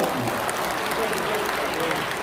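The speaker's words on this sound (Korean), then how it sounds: "다시 한번 거기에 박수 주시기 바랍니다" Audience at a People Power Party members' training event in Changwon applauds steadily, a dense, even wash of clapping that lasts the whole stretch at moderate loudness.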